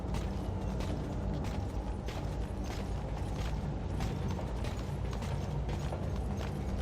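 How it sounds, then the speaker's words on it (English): Elevator machinery in Metal Gear Solid V grinds and creaks steadily, with ratcheting mechanical clanks and gear noise repeating throughout at a fairly low level. "now we're gonna get in an elevator with 5 people"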